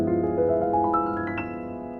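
Piano rolls an arpeggio of jazzy chord extensions upward across the keyboard, notes entering one after another and ringing together before fading, with no talk.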